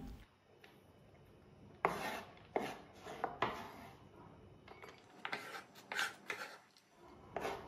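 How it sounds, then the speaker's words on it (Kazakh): A knife chops five or six garlic cloves on a board, giving irregular, close, crisp strikes with short scraping pauses between them, and no voices. "Чесноктан 5-6 зубчик турап аламын."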